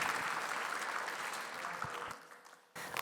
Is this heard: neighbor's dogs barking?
no